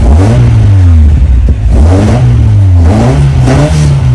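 A Toyota AE86's engine revs up and down in repeated loud surges, idling rough and uneven between pulls, the strained rise and fall running without a break.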